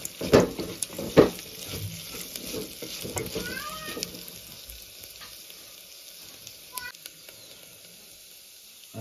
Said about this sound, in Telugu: ఒక 5 నిమిషాలు మనం వేపుకుంటే పచ్చివాసన అనేది పోతుంది.